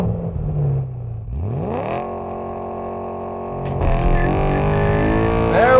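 A BMW E92 M3 engine revs hard while accelerating, its tone sweeping upward through the gears as rising harmonic whines and a throaty roar, loud and close from inside the car, with a brief drop and a renewed climb.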